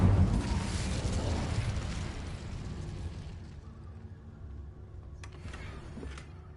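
The Incendio fire spell in the video game Hogwarts Legacy erupts with a loud fiery burst, followed by a crackling, roaring rush that slowly fades, with a brief bright clink near the end.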